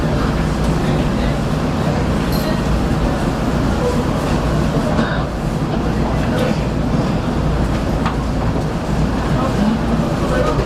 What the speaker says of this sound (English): Doors are opening. Frankford train making all stops.